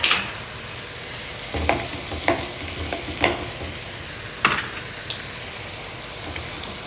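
Chicken frying in a pan, a continuous close sizzle with scattered louder pops and crackles breaking through at irregular intervals, with no one talking.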